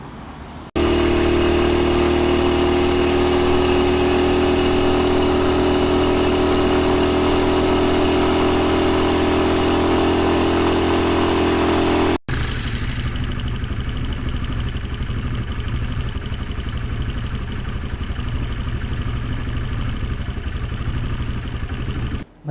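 A motorcycle engine hums loudly and steadily during a test ride, then the tone shifts abruptly midway to a rougher, lower drone with wind noise as the ride continues.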